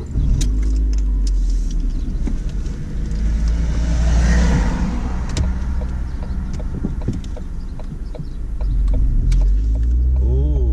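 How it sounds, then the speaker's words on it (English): A car engine idles and then pulls away during a mock driving test, a steady close rumble that swells as the vehicle accelerates and then settles, with no talk over it. "get your engine on, and drive off when you're ready"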